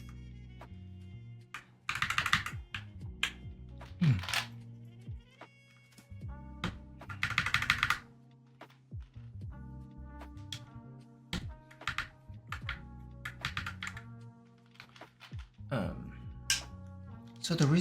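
Keys clacking on a Glorious GMMK 96% mechanical keyboard fitted with gradient red-to-black keycaps, in bursts of close, crisp typing that run with pauses between them, and a voice talking in places.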